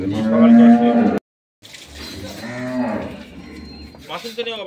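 A cow moos loudly nearby, a long low call, then after a short pause a second, rougher bellowing moo follows.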